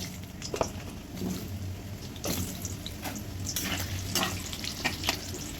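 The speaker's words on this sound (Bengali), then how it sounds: "আলুগুলো ভাজা হচ্ছে" Potatoes fry in hot oil with a continuous close sizzle, punctuated by several sharp crackles and stirring scrapes spread through the clip.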